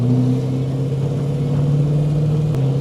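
A car idles and pulls away with a steady mid-pitched engine hum and low rumble, holding a constant drone close by with no talk over it.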